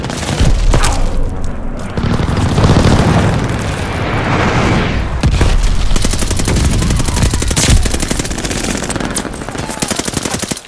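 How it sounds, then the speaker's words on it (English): An airstrike in the Call of Duty: Vanguard video game, loud continuous booming explosions and heavy rumble, then dense rapid machine-gun fire later on, close and intense throughout. "Friendly sending an airstrike."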